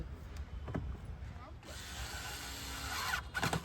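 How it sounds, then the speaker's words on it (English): A powered screwdriver drives screws into the tail lamp assembly of a Hyundai Elite i20, whirring in a sustained buzz for about two seconds after some short clicks and handling noises. "The powered screwdriver is super handy for this."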